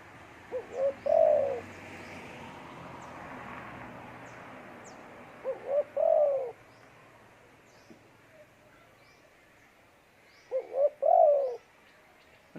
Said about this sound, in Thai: ตัวนี้เป็นนกหนึ่งกุกนะครับ เสียงใหญ่สุด ๆ